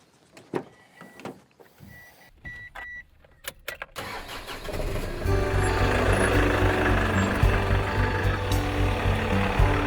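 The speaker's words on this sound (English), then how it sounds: "now we're driving Laymen Ministries' little Ranger pickup truck" A little Ranger pickup truck on a road in the Philippines: a few clicks and knocks, then the engine starts and settles into a continuous, fairly loud running rumble.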